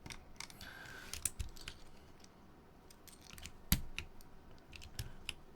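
Keycaps being swapped on a computer keyboard: quiet, irregular clicks and taps, with a few sharper snaps as caps come off and go on, close by with no talking.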